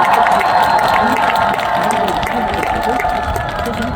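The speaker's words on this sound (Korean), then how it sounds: "큰 박수 보내주시면 좋을 것 같습니다" A concert audience claps and cheers together in a dense, sustained burst of applause that fills the hall evenly, with scattered shouts rising over the steady patter of hands.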